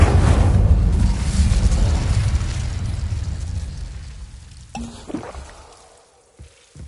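Incendio fire spell cast in Hogwarts Legacy, a heavy fiery whoosh and rumble that starts loud and fades out over several seconds, followed by a few small pops near the end.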